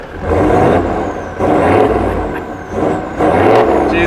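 Several 2.8 litre wagons drive past in turn, each engine swelling loud and then easing off in repeated waves of revving road noise over about four seconds, with no talking.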